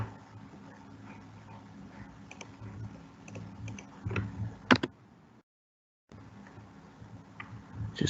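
Computer keyboard typing in short irregular bursts of soft clicks, fairly quiet and close, with a brief silent gap partway through.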